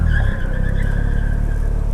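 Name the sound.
truck peeling out with tires squealing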